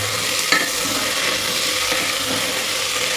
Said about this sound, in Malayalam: എല്ലാം നല്ലപോലെ മിക്സ് ചെയ്തെടുക്കാം.